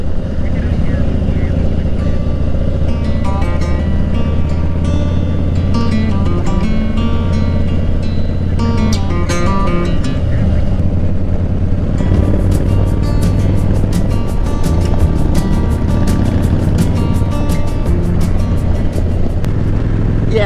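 A Harley-Davidson Slim motorcycle cruises along with a steady, low engine drone and constant wind rush throughout, the rumble holding an even pitch with no sharp revving.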